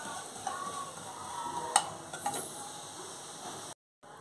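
Cumin seeds fry in about two spoons of oil in a kadai, giving a steady, soft sizzle with a few light ticks and scrapes from stirring before a brief drop to silence near the end.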